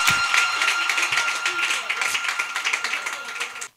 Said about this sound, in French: Vous êtes fort, applaudissez.